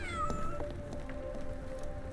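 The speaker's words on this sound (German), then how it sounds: "Das war witzig, ich höre die ganze Zeit mauzen." Cat meowing in the video game Sherlock Holmes The Awakened, a few drawn-out, rising and falling meows near the start followed by quieter cries over steady game ambience and a low background hum.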